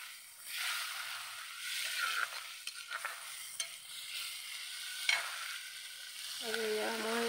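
Snails sizzle steadily in a hot pan while a spoon stirs and scrapes through them in repeated strokes, with a faint tonal hum rising near the end.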